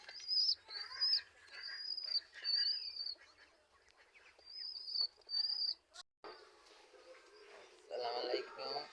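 A pigeon chick makes repeated thin, high chirping calls in short bursts, close and fairly clear, during a rainy day in a Bangladeshi village, followed by softer rustling and faint background noise.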